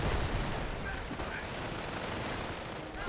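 A squad firing in a Company of Heroes battle, a dense, continuous rattle of small-arms and machine-gun fire that stays loud throughout with no clear pauses.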